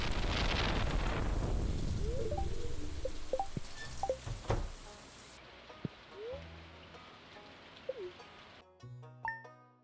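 Heavy rain hisses steadily in a video game after a rain totem is used, then cuts off abruptly, leaving sparse chirpy game tones and short blips.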